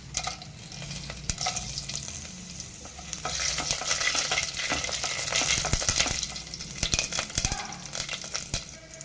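Dried red chillies and cumin sizzle and crackle in hot oil for a Tamil manathakkali keerai stir-fry, a steady close frying hiss with stirring scrapes and clinks, swelling louder midway, no voices.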